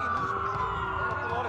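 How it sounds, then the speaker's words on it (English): Police sirens wail continuously during a citywide blackout in the video game Watch Dogs, rising and falling steadily over a low background rumble. "Sirens for a blackout."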